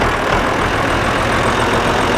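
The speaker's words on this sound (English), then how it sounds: "Oh my God, that was way too easy. This tractor's a good tractor." An old, long-abandoned 700 tractor with about 9,400 hours runs steadily close by, a dense, rough idle drone that stays constant throughout with no speech.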